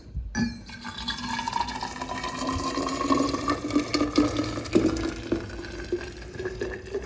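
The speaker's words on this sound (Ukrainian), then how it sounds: "І заливаю окроп в термос." Boiling water is poured into a thermos in a continuous, rising gurgle that climbs in pitch as the flask fills, heard close and alone.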